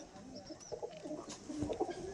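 A female pigeon gives a few soft cooing calls nearby, short low murmurs rising and falling in a quiet space.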